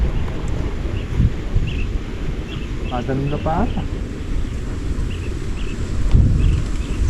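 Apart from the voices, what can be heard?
wind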